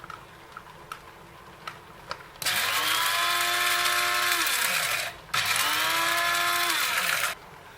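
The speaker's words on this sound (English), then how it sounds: "So I'm getting into the dry blender." A dry blender grinds crayfish for a plantain porridge in two loud whirring bursts with a short pause between them, after a few faint clicks.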